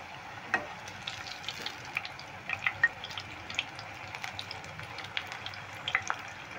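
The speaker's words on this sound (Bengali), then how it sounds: "অল্প তেল দিয়ে ভাজতে হবে, খুব বেশি ডোবা তেলে দিলে জিলিপিগুলো কিন্তু ভালো হবে না।" Jalebi frying in a little oil over medium-low heat, a soft steady crackle with faint bubbling and light scattered pops, fairly quiet throughout.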